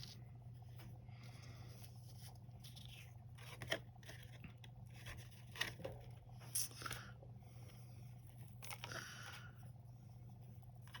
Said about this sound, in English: now I'll just trim my excess